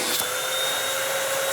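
Eureka Boss Smart Vac 4870 MZ-2 upright vacuum running loud and steady, with suction routed through the hose by the diverter valve and a high whine held throughout.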